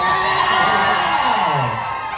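Crowd at a Charlie Gamin event at HomePro Future Park Rangsit cheering and shouting together in a dense, loud, continuous roar that fades slightly at the end.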